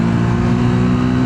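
A Triumph Speed 400 349cc motorcycle accelerating hard, its engine a loud, steady, continuous roar that fills the short stretch without a break.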